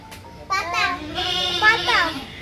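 A goat bleats loudly and close by in a wavering, drawn-out cry, with children's voices around it.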